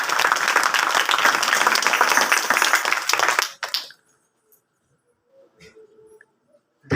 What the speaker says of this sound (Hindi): थोड़ा ताली बजा के खुदावन का धन्यवाद करेंगे।